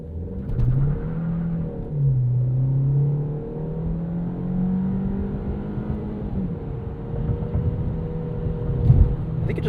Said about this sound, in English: I think it just bounced itself off the rev limiter.